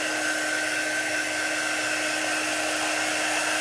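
A hair dryer set on low blows over a freshly chalk-painted piece, a loud, steady whirring whine with a constant pitch and no pauses.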